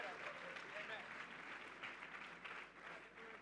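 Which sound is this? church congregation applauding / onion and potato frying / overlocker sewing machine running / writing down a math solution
church congregation applauding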